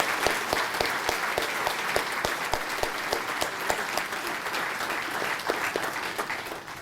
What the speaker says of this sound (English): Would you join me in giving her a round of applause?